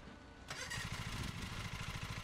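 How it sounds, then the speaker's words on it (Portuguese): A lawn mower engine cranks and starts up in the Lawn Mowing Simulator video game, catching about halfway through and then running with a steady, throbbing rumble at close range, with no voices over it. "O Z liga o motor. Tem que segurar."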